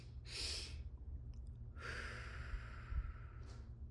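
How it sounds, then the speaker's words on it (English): Slow breathing exercise: two sharp inhales followed by a long, slow exhale and another brief breath, close to the microphone, airy and quiet with no speech. "let's start off with 2 breaths in and a slow breath out"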